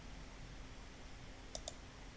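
Two quick, crisp mouse clicks, close and sharp, come a fraction of a second apart against faint steady room hiss while working in an Excel workbook.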